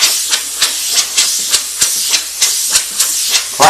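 An airbrush sprays paint in practice strokes, such as dagger strokes and straight lines, in an airbrush studio. It gives a steady loud hiss with a regular pulse as each stroke starts, about three per second, with no voices.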